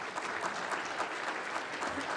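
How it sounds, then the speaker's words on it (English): Audience applause at an annual legislative breakfast, a steady wash of many hands clapping throughout, moderately loud and unbroken. "Give Shannon a big round of applause."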